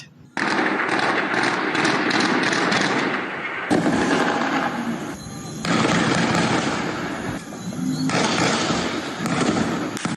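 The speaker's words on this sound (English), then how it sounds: "the heavy gunshot started" Heavy gunfire exchanged near Betwinge Market, a long dense barrage of rapid cracks and thuds, loud and continuous, with brief shifts in intensity and faint voices underneath.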